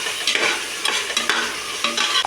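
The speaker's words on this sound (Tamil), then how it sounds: "இப்போ நம்ம காய்கறியெல்லாம் கொட்டிக்கலாம்" Vegetables are tipped into a hot pan with fried tomato and onion for vegetable biryani and stirred, giving a bed of sizzling frying with repeated scraping spoon strokes against the pan, close and fairly loud, no voices.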